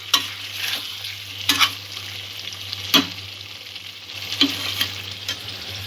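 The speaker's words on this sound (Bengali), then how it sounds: "সবকিছু আবারও একটু নাড়াচাড়া করে" Spinach and potato curry stirred and sautéed in a pan, repeated sharp spatula scrapes and knocks against the metal over a constant frying sizzle, close and clear.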